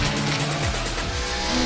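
Engines of the cars in Rocket League's racing mode, a video game, droning steadily with pitch shifts that rise and fall as they rev and shift, loud and continuous with no voices.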